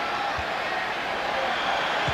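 Basketball arena crowd at a 1995 Bulls vs Pacers game reacting to Michael Jordan with a loud, steady, sustained roar of disapproval filling the space.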